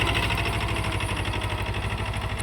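A tractor engine runs steadily in a farm field, a loud, close, throbbing rumble with an even pulse and no voices.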